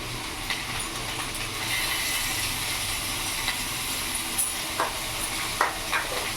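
Ridge gourd fries with turmeric in a pan, giving a steady soft sizzle with occasional scraping clicks from stirring.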